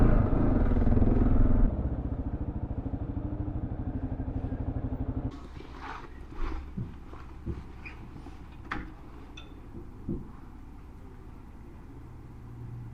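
A 2022 Kawasaki KLR 650 Adventure motorcycle engine runs close by with a steady loud rumble for about five seconds, then cuts out, leaving quieter clatter and scattered knocks.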